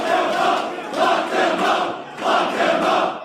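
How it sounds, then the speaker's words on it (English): A large crowd chants "lock them up" in a loud, rhythmic unison, the phrase rising and falling in repeated swells that carry across the space. "I guess the crowd is saying, lock them up, huh?"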